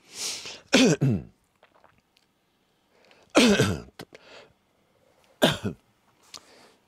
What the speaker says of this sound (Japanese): ごめんなさい今の咳うるさかったでしょマイク近いから